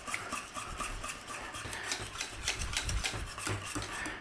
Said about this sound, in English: And we stir it all in until it's smooth.